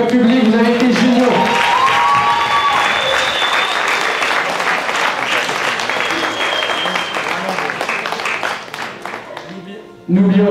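Loud, sustained applause from the audience at an eloquence competition final, with cheers and a whistle over the clapping, fading near the end before a voice cuts back in.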